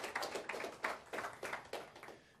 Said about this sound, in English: How about a nice round of applause for Dave for the presentation?